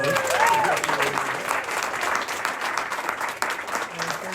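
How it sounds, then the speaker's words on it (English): Round of applause for Rabbi Fell after a final lecture: a full burst of crowd clapping, strongest at the start and easing slightly, with voices faintly mixed in. "I think we need to offer Rabbi Fell a big round of applause."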